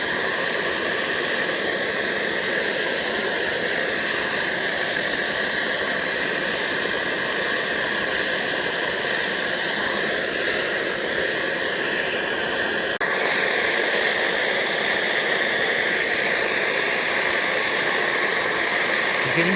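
A Primus Omnifuel camping stove burns at full blast, giving a steady, loud, roaring hiss that holds unbroken for the whole stretch. Partway through it rises slightly and gets brighter.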